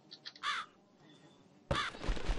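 Crow in the video game The Cat Lady cawing loudly twice, a short caw early and a harsher burst near the end, with quiet game ambience between.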